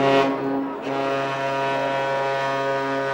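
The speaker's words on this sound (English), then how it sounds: "1 short and 1 long blast, at least 3 times in succession, the ship is in trouble" The deep ship's horn of the Aurora Australis sounds one short blast, then a long sustained blast, an emergency signal, loud and droning, with no voices.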